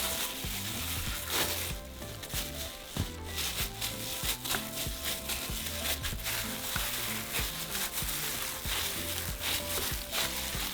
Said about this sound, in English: And I'm just going to mix my meat with my seasoning.